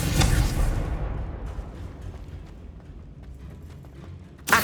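A Confringo blasting spell explodes in Hogwarts Legacy, a loud booming burst at the start that fades into rumbling debris, followed by a sharp pop at the very end.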